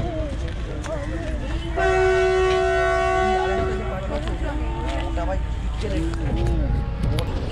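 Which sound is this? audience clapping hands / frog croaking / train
train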